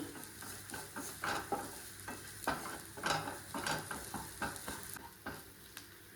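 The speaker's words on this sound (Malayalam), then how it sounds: "ഇതിലേക്ക് ഒരു നുള്ളു മഞ്ഞൾപ്പൊടി ചേർത്തിട്ട് വീണ്ടും ഒന്നുകൂടി ഇളക്കി കൊടുക്കാം." Fish masala being stirred in a hot pan, a steady run of scraping strokes over a soft frying sizzle, close and clear with no talking.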